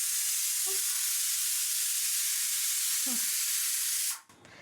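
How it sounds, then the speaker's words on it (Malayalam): Ghee poured into a hot pan for egg masala biryani gives a steady, loud sizzling hiss throughout, with a couple of brief clinks and the frying dying down sharply near the end. "പാത്രം ചൂടായി, നെയ്യ് ഒഴിച്ചു."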